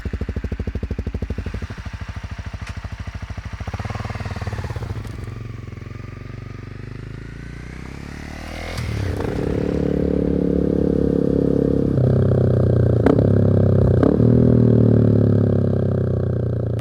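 A motorcycle engine hums steadily, then revs up and settles into a louder, rougher drone as the bike picks up speed close by on a ride around Jonsvatnet lake, Norway.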